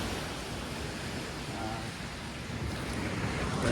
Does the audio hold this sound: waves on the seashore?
yes